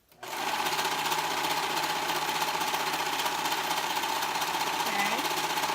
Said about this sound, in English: So now I'm going to go ahead and sew that seam where the raw edges meet together of the top.